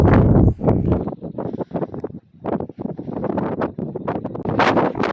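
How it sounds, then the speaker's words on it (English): Wind buffeting on a rocky mountain clearing near Bariloche in Patagonia, loud irregular gusts roaring in bursts with brief lulls, no one talking. "Definitely windier this afternoon."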